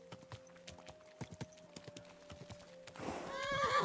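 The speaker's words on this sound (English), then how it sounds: "Dude, horsey." A horse in the video game Kingdom Come: Deliverance II, close hoof clops trotting at an uneven pace, ending in a loud neigh and snort.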